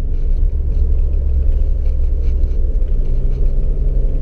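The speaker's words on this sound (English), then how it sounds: "You just need to drive your old Beamer and enjoy it." A 1991 BMW 525i E34 on the road gives a loud, steady low engine rumble with constant road noise, heard from inside the car with no talking.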